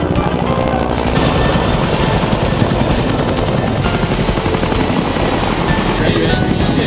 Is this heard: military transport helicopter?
yes